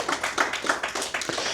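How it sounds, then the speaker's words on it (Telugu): An audience at a gathering honoring Patriji claps, a brisk run of close, sharp hand claps with an uneven rhythm, moderately loud and with no talking over it. "ఒకసారి గట్టిగా చప్పట్లు కొడదాం"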